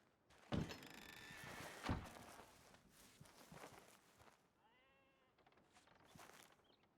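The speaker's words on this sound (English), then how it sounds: "Keep hearing horses." Heavy thuds and hoof-like steps land unevenly, then a horse gives a short whinny in the middle, all fairly quiet, in the roleplay video game WildRP.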